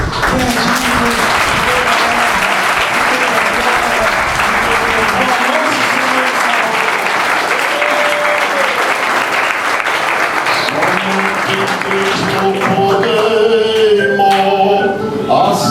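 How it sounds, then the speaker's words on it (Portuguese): Assembly of God congregation at a missions service in Vila Adelaide clapping loudly and continuously, with voices and music rising beneath the applause toward the end. "Quem pode dar uma salva de palmas?"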